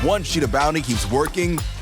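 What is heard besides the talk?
None of the usual background noises is heard.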